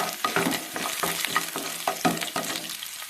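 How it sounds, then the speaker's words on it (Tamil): Crushed garlic stirred into drumstick leaves frying in a pan, giving a continuous close sizzle broken by regular scraping strokes of a spatula against the pan. "இப்போ இடித்து வச்ச பூண்டு சேர்த்துக்கலாம்"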